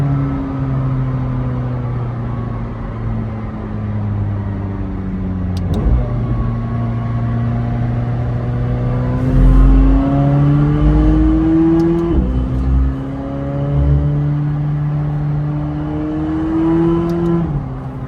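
A tuned McLaren 720S sports car, about 1000 hp with turbo inlets and blow-off valves, drones and climbs through gears, pitch rising steadily then dropping with each shift, loud and close with deep low-end rumble.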